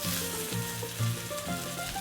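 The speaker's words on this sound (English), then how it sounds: "You can hear that sizzle" Potatoes sizzle steadily on a hot griddle for corned beef hash, a close crackling fry with a few soft scraping pushes as they are spread flat.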